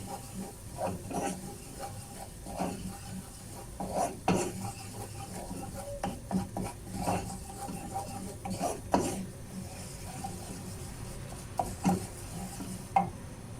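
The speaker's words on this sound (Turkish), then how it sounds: "Bunu da şöyle un kokusu çıkana kadar kavuracağım" A spoon of flour is toasted in melted fat in a pot and stirred continuously, making repeated scraping and light clinking strokes against the pan over a faint sizzle, close by and moderately quiet.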